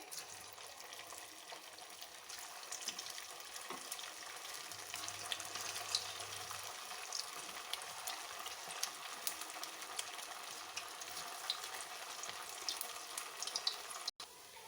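Poha and potato balls fry in hot oil in a pan, a faint steady sizzle and bubbling with light crackles throughout and no talking.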